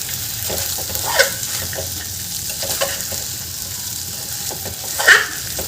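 Rice and pigeon pea grains are sautéed in a pan, giving a gentle steady sizzle with intermittent scraping and stirring strokes, including two louder scrapes.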